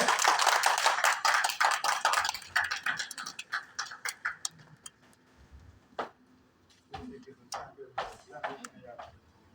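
Guests at a wedding ceremony clap for the couple, first dense applause that thins into scattered claps, with a voice talking in the middle.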